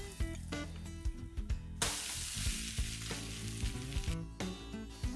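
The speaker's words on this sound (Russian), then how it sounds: "накройте крышкой и жарьте так пару минут" Steady loud sizzling of a cabbage pancake frying in a pan, with a burst of stronger hissing midway and light scraping and clinks throughout.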